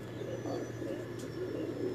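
A pigeon coos softly in a low, continuous murmur at close range, with faint background hum.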